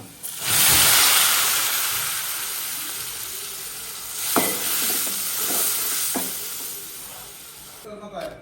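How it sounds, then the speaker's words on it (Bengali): Cumin and lentils for masoor dal tipped into a pan of sizzling fried onion tempering, producing a loud surging hiss that settles into a steady frying sizzle punctuated by a few stirring knocks, with no talk over it. "এখন জিরা দিয়ে দিলাম জিরা দিয়ে এখন ডাল দিয়ে দেব"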